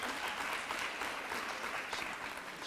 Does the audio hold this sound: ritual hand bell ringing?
no